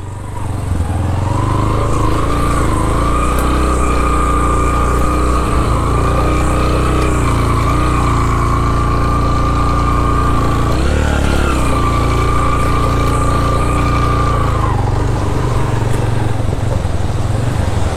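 A motorcycle engine labours along a rough mountain track beyond Upper Dumel, droning loud and close for the whole stretch, with its pitch rising and falling as the throttle shifts. No one talks.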